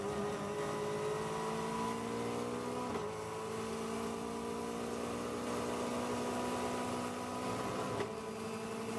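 A Caterham Seven race car engine drones steadily on a flying lap at Spa, the whine rising through the gears with a few brief dips at the shifts. The sound is continuous, heard close from onboard at moderate volume.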